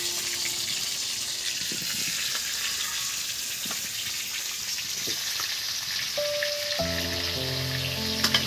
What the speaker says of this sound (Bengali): এবার এই তেলের মধ্যে আমি এই আলুগুলো দিয়ে দিচ্ছি।